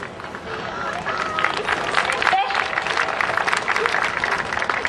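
Applause from a crowd in a high school setting runs steadily and loudly through the whole stretch, with scattered voices mixed in.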